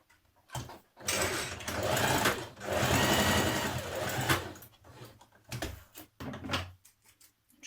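A sewing machine stitches a 1 centimetre seam at the lower edge of a trouser underlap in several bursts of loud, close, rapid mechanical whirring separated by short pauses, the longest run lasting about two seconds.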